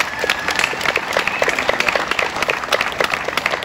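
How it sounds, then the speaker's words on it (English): An audience at a Memorial Day observance in Leesburg bursts into sustained applause, with dense, steady hand clapping from a crowd that carries on evenly. "give her applause for that."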